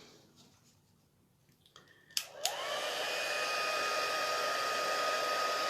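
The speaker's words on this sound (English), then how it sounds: "so now we have to heat set that embossing" Heat tool blowing hot air to set embossing powder, switching on with a couple of clicks and then a steady, loud whooshing hiss with a rising whine that holds to the end.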